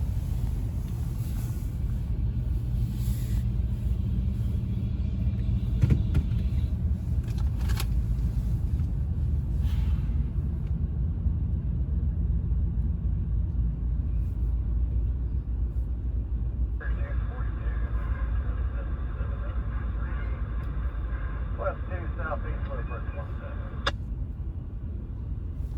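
Loaded CSX grain train G777 for Columbus turns the wye at Fostoria onto the C&O: a steady, heavy rolling rumble throughout, joined in the second half by a sustained high metallic squeal.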